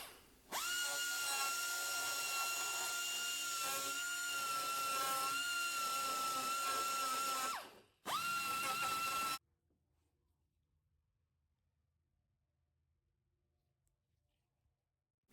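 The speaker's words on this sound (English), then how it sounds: "I used a small cutoff wheel to go ahead and cut out the hole here" A small cutoff wheel cuts a hole in a car hood on a Nissan S13 coupe, giving a loud, close, high-pitched grinding whine for about seven seconds, a brief stop, then another short burst before silence.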